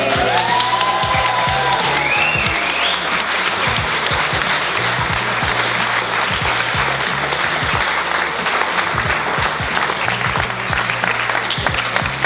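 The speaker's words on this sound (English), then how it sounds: "please give Hannah and Katie and Neil and Adam a massive cheer" A live audience claps and cheers loudly and steadily, with whoops over dense applause for the whole stretch; no voice stands out.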